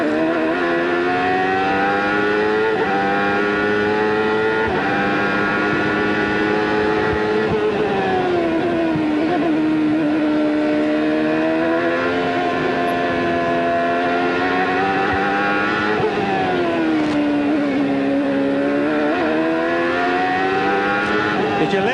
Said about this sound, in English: If you listen to the engine, you can just see how smooth the driver has to be, Paul.